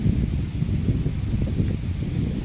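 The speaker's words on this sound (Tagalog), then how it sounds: "Ang lakas ng hangin." Strong outdoor wind in a cherry-picking setting buffets the microphone with a steady low roar and gusty rumble, loud and continuous throughout with no voices.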